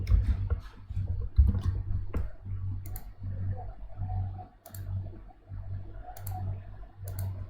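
A computer mouse gives a handful of sharp, spaced clicks during structural design work in ETABS software, close by over a steady low hum.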